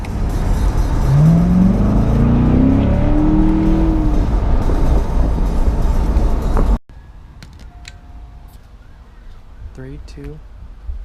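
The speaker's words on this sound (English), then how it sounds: "Good day to be in a Corvette." A Corvette pulls away with a loud engine roar that climbs steadily in pitch for about seven seconds, then cuts off abruptly to a quiet background with faint scattered sounds.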